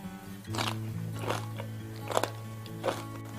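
Someone bites into and chews homemade green onion kimchi, producing four distinct crisp crunches close to the microphone, spaced about a second apart over a low steady hum.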